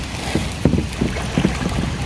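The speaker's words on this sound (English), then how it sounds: "We are kayaking in Mafra." Paddle strokes from a kayak on a river near Mafra make soft, brief splashes under constant wind noise on the microphone.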